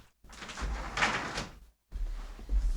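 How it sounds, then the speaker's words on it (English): A room door swings open with a soft scrape and rattle of the latch, a short hush, then a second handling noise as a window is pushed open, fairly close and loud in an indoor room. "Let me open the door."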